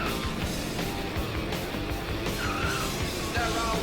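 Arcade-style race cars skid and roar in a Blizzard Arcade Collection racing game, a dense, steady wash of engine noise with brief tire squeals, loud and continuous throughout.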